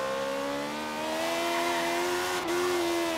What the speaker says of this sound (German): Voll aufs Gas.